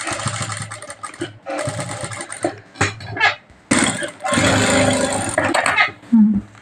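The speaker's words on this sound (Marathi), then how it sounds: "पूर्ण गळ्याला आपण अशा पद्धतीने एक टीप टाकून घ्यायला" A sewing machine stitching along a blouse neckline runs in several bursts of fast mechanical whirring, broken by short pauses, with brief speech between runs.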